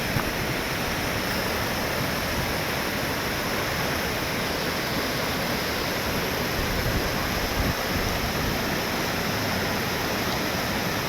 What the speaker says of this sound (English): Apparently these are the highest waterfalls in the United Kingdom.